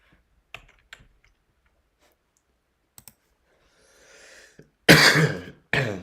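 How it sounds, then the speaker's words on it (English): A person coughs in a short, harsh burst of two loud coughs near the end, preceded by sparse keyboard clicks and a faint breathy exhale in an otherwise quiet room. "Sorry about the cough, guys."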